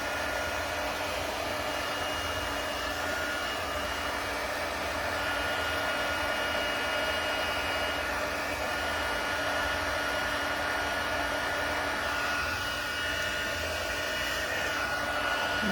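An embossing heat tool blows continuously to melt embossing powder during a candy cane card-making session. It gives a steady, close, even rushing whoosh that lasts throughout, with no talk over it.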